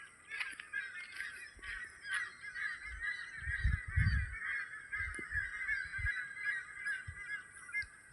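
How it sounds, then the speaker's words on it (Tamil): Several birds roosting in a coconut tree call repeatedly in short harsh bursts from nearby, with a steady high chorus of chirping running throughout. "பார்த்தா பறவைகள் வந்துருச்சு எல்லாம் நினைக்கிறேன்"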